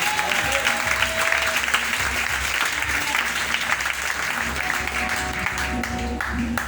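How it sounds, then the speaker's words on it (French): A church congregation applauds to acclaim the Lord, a dense, steady wash of many hands clapping that fills the room without a break. "Tu peux acclamer le Seigneur."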